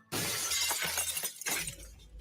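Glass shatters in a loud, bright crash played as a sound effect. Pieces tinkle and scatter for a second or two after the break, with no voices.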